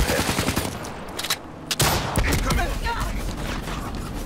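Dense gunfire in Black Ops 3, with a heavy volley of closely spaced shots, a short lull, then more shooting and impacts. The barrage is loud and continuous.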